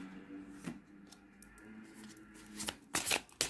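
Tarot cards are shuffled and drawn from the deck, soft papery riffles and slaps that build to a few sharper flicks and snaps near the end, close by and fairly quiet.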